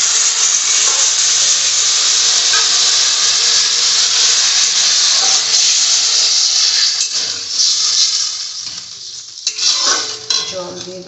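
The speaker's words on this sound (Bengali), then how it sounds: "এখন আমি জল দিই।" Water hits hot fried spice paste in a pan for a red lentil (masoor dal) chorchori, giving a loud, continuous sizzling hiss with the clatter of a stirring utensil that eases slightly toward the end.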